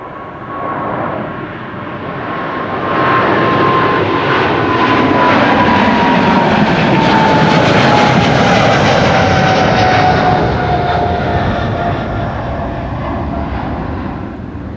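A Boeing 777-300 jet airliner at Amsterdam Schiphol, its loud, steady engine roar swelling as it passes close and then easing away, with a falling whine running through the noise and no talk.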